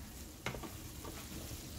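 Spaghetti squash frying in a pan during low-carb batch cooking gives a faint, steady sizzle, with a brief stirring scrape near the start.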